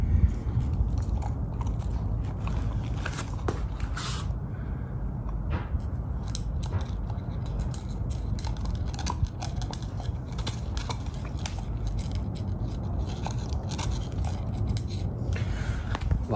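A puppy gnaws on a lamb rib bone with steady crunching and scraping bites, close and continuous, with no talk over it.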